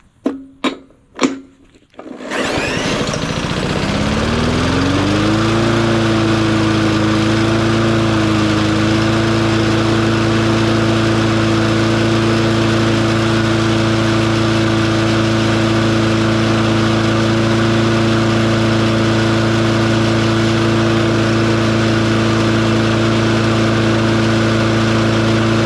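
A water-damaged junkyard lawn mower engine gives a few sharp pulls and knocks, then fires and runs steadily, revving up and settling into a loud, even drone for the rest of the clip.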